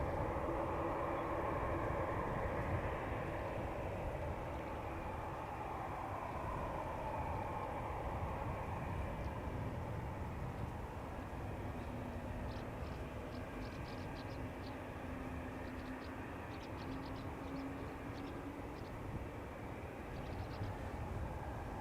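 An Air Canada airliner heading to Montreal takes off from Schiphol's Polderbaan runway, a long, even jet roar with low rumble, sustained and fairly distant, with no voices.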